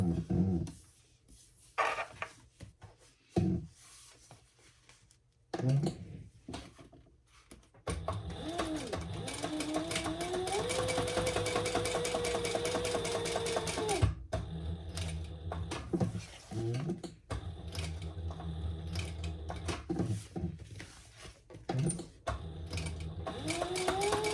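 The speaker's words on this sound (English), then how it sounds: "now I'm going to top stitch that" A sewing machine topstitches a crossbody bag, first in short stop-start bursts, then in a long steady whirring run that continues to the end, fairly faint and with little talk.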